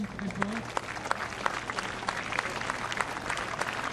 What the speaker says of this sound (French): au meilleur Calédonien qu'on applaudit très fort